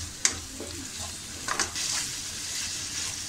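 Ginger garlic paste sautéing on a hot tawa for street-style pulao, a steady close sizzle with a few sharp spatula scrapes and stirs breaking through near the start and middle.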